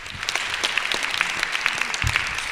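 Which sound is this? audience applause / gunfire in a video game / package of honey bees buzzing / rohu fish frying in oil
audience applause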